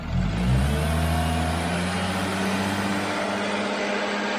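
Engine of an Audi B8 S4 revving, a loud, close rise in pitch that settles into a steady high idle drone, with no talking.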